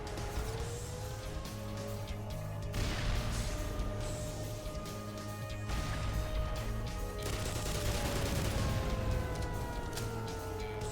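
Explosions from bombing runs in Black Mesa, a dense continuous roar of blasts and rumbling debris, loud and sustained, with a droning tone running underneath.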